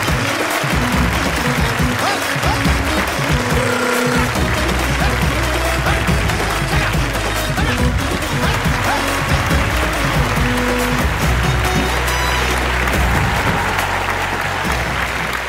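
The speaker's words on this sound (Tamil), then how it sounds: "ஒரு மிகப்பெரிய கைத்தட்டலோட கமர்ஷியல் சினிமாவுடைய கிங் அப்படின்னு சொல்லலாம் இயக்குனர் திரு கே எஸ் ரவிக்குமார் அவர்களை மேடைக்கு அழைக்கிறோம்." A large audience at a film audio launch claps loudly and continuously to welcome a director onto the stage, a dense sustained ovation lasting the full span, with a voice faintly audible beneath it.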